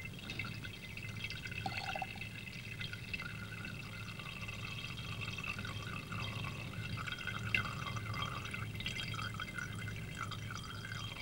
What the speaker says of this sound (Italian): Dall'imbuto defluisce acqua limpida.